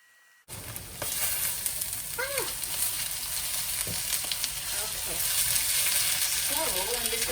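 Lemongrass chicken sears loudly in a pan over high heat, a steady close sizzle and crackle that runs throughout, with a brief stir or scrape and faint background talk.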